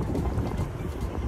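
An inflatable boat moves along a river, giving a steady low rumble of water and wind buffeting the microphone with no voices.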